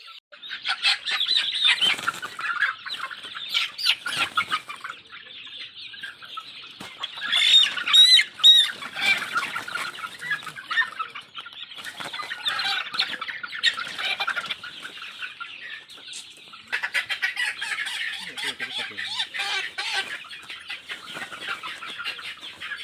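Local farm chickens cluck and squawk loudly and close by, a busy flurry of sharp calls that bunches into agitated bursts, especially midway and near the end.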